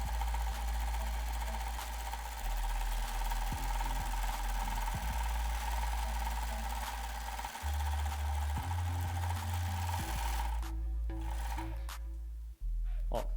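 A sewing machine runs a seam through fabric that tends to skip stitches, a steady motor hum with a rapid mechanical stitching pulse held for most of the stretch, then stopping near the end.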